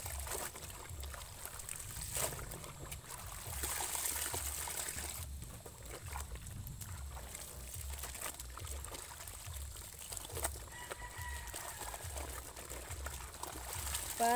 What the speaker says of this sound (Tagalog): bilisan po natin ang pagbanlaw